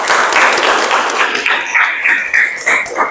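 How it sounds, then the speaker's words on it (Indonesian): A class applauds student presenters in a teaching session, a brief burst of clapping that fades as a voice starts talking over it. "Tepuk tangan untuk kalian semua."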